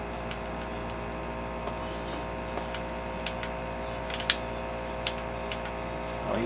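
A steady, droning air conditioner runs in the background near a Sega Genesis game being played, with faint scattered ticks on top of the constant noise.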